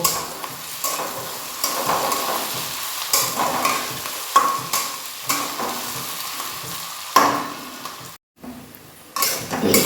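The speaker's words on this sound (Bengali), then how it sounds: "দেখো পেঁয়াজটা হালকা ভেজে নিয়েছি" Onion and whole peeled garlic cloves frying in a pan for Bihari-style mutton, a steady close sizzle broken by repeated scraping stirs and clinks of a spoon against the metal, with a brief pause near the end.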